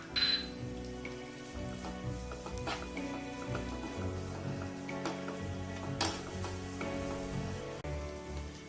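Dried red chillies crackle and sizzle in hot oil for butter chicken sukka, a steady bubbling fry with scattered pops and faint clinks, no voices over it.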